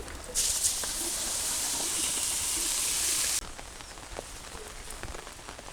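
Steady rain falling in a rainy-day kitchen while khichuri cooks, a loud even hiss that cuts off abruptly after about three seconds, leaving a quieter background with scattered drips and ticks.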